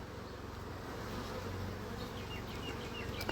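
Honey bees buzzing around an open hive during an inspection, a dense, steady drone of many insects heard close throughout, with a few sharper passes near the end and no talk.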